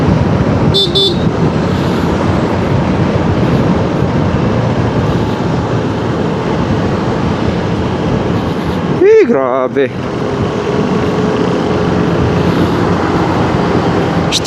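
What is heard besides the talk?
road traffic with car horns during a ride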